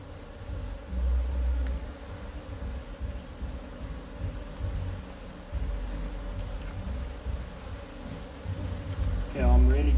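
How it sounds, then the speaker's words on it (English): Dense buzzing of many honey bees inside an open hive during an inspection, a steady close droning hum with slight rustling and no talk. "there are a lot of bees in here"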